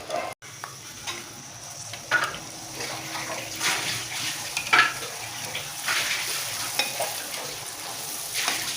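Puris deep-fry in hot oil with a soft, continuous bubbling sizzle and occasional louder crackles and splashes as they are turned, heard fairly faintly and alone.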